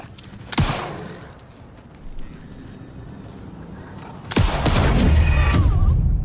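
Gunfire in a video game aimed at wolves: a couple of sharp, loud shots ring out, followed by a dense, sustained barrage of blasts and rumbling.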